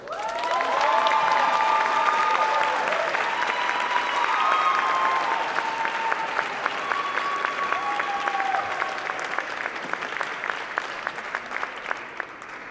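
An audience at a youth speaking event greets a young speaker named Pamela with sustained, loud applause and a few cheers, the clapping steady throughout and gradually thinning toward the end.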